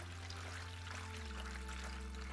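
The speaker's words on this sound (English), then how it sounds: "And I'll take gallon jugs of water and I'll just fill it up." Water pours steadily from a gallon jug into a tray to water broccoli and cauliflower seedlings from the bottom, a continuous close trickling stream over a low background hum.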